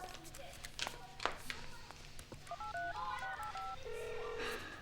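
A telephone is dialed: a quick string of short electronic keypad tones follows some shuffling and taps, heard clearly at moderate volume.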